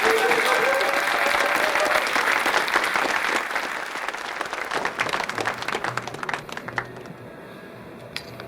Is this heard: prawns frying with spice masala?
no